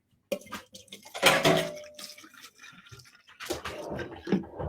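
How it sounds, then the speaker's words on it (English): Distilled white vinegar is poured into a container for a balloon experiment. The liquid splashes and gurgles unevenly in close, irregular bursts, with some clattering handling noise. "I'm going to pour some vinegar into my container"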